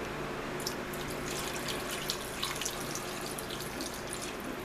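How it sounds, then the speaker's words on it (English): Water running steadily from a tap into a pot of beef stew with beef broth on the stove, a continuous hiss-like splashing stream with faint drips, fairly quiet and unbroken, with no talking over it. "And I'm going to add enough water just to cover."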